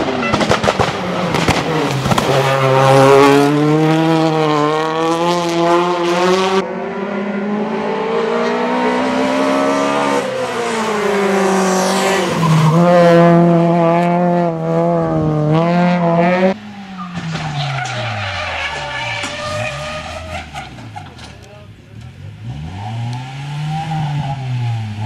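Race cars at the GSMP Załuż 2017 hill climb, with loud, close engines screaming through rising and falling revs between gear changes, then tires skidding and squealing in wavering arcs.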